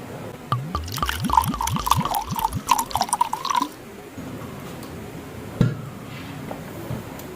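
Pineapple juice pours and splashes into a glass, a run of quick liquid glugs and drips lasting a few seconds, followed by quieter handling and a single clink, close and moderately faint.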